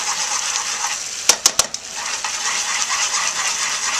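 Jambalaya sauce sizzles steadily in a pan, thickening to a glaze while a utensil stirs and scrapes it, with a few quick metallic clinks partway through.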